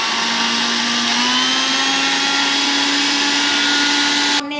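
A kitchen blender purees soaked apricots for kulfi, a loud steady motor whine held for several seconds before cutting off abruptly at the end.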